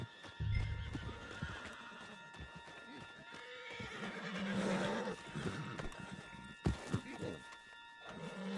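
A horse in Red Dead Redemption 2 neighs and snorts close by, with hooves clip-clopping and shuffling around it, over a faint background hum.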